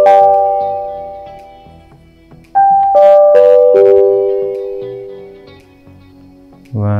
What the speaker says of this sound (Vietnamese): trước khi mình phát thông báo cụ thể thì mình có tiếng chuông, nó rất là để mọi người chú ý đến cái thông báo của mình.